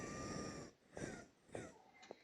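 A creature breathes in the horror game Mystery: Curious and seek truth, set in an abandoned hospital: three faint, raspy, snore-like breaths spaced about half a second apart, low and muffled after a steady ambient hum.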